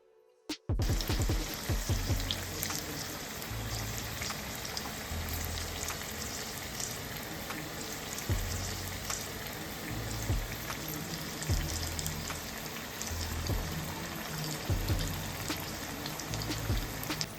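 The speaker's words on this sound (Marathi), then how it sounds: "आता त्याच्यात मिरची एक एक अशी बुडवायची आणि मशी सोडायची।" Batter-dipped green chillies for bhaji go into hot oil and fry with a dense, loud, continuous crackling sizzle. It starts abruptly and holds steady close by for the whole stretch, with no talking.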